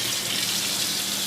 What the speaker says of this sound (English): Single-handed faucet, pull down, spray, regular.